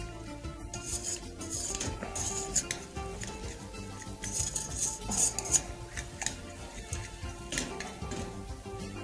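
A utensil stirs vanilla caramel in a pan with continuous scraping and rubbing against the metal and occasional light clinks, close and moderately quiet.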